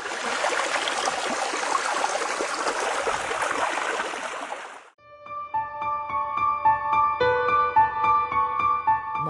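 A fast-flowing mountain stream in an animated scene, a loud, dense rushing of water that cuts off halfway, after which a music track comes in.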